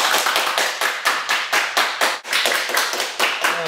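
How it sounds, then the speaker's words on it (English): A high school class claps hands together in unison, sharp loud claps in a steady rhythm of roughly three per second, close and alone. "Everybody clap your hands."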